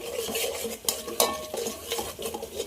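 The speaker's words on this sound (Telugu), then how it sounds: "ఇప్పుడైతే అల్లం పేస్ట్ వేసేసుకుంటున్నాం అల్లం పేస్ట్ కూడా కొంచెం పచ్చివాసన పోయే వరకు" Ginger paste frying in a pan with clinks and scrapes of a spoon stirring against metal, close and moderately loud, no speech.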